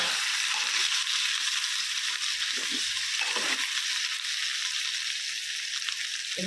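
Ginger garlic paste with a little turmeric frying in a pan for an onion and egg curry, a continuous bright sizzle near and steady, briefly dipping around the middle as it is stirred, with no talk over it.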